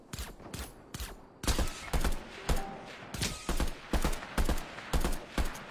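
Pistol shots fired in a video game, a rapid run of sharp loud cracks coming in quick clusters with brief gaps between them.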